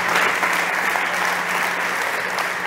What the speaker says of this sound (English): Big applause to Carlos.